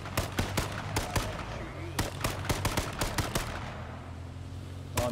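Gunfire in the H1Z1 Battle Royale video game: a burst of rapid sharp shots, a pause, then another run of close shots, with a single report at the end.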